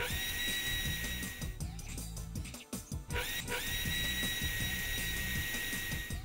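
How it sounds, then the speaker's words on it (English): A power drill whines steadily at high speed boring an 8mm hole through a window frame, pauses briefly with some clattering, then spins up again and runs on. "Drill an 8mm hole to route the cable through the frame."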